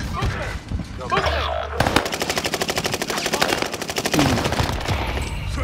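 Rapid automatic gunfire in Call of Duty: Warzone Pacific, a dense burst of machine-gun shots lasting several seconds, loud and close, with game sounds before and after.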